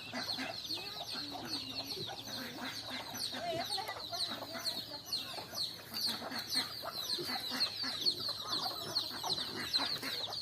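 Chickens cluck continuously close by, with ducks and goats kept nearby, in a busy farmyard chatter of overlapping short calls that carries steadily throughout.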